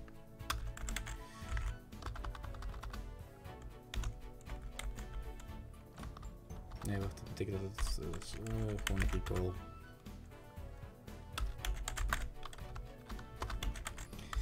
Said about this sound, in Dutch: We kunnen maar zo snel typen, mensen,